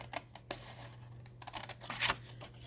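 Scissors cut a strip from a colored paper sheet to make a paperclip coin pocket tag. A few quiet, crisp snips and rustles sound close by, with no talking.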